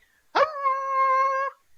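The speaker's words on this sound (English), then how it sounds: "Who's a good dog?" A single drawn-out, high-pitched dog whine or howl rises sharply and holds steady for about a second before cutting off, close and clear against silence.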